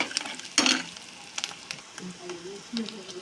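Ginger garlic paste frying in hot oil with curry leaves for a chicken liver curry, stirred with a spoon, giving a loud burst of sizzle and scraping early on, then softer crackling and stirring; faint voice-like tones underneath.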